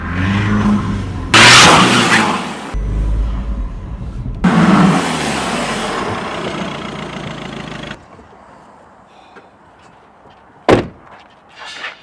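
Audi A1 with a blocked diesel particulate filter, engine running while driving: a steady, loud mid-pitched engine drone in separate stretches, followed by a quieter spell and one sharp, door-like slam near the end.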